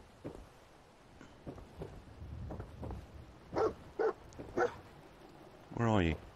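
Dog barks in Fallout 4 arrive as a few separate woofs near the middle, followed by a drawn-out whining yelp at the end, with speech running underneath for much of the time.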